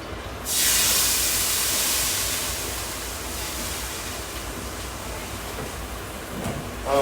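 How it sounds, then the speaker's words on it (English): A hot pot, just used for frying chicken for chicken piccata, is rinsed under running water, giving a loud sudden rush and sizzling hiss that settles into a steady spray, with a brief clatter at the end. "I'm going to give this pot a quick rinse."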